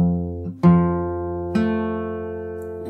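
A fingerstyle acoustic guitar plays a chord pattern from a song, with three plucked attacks whose notes ring and decay, close and clear with no talking.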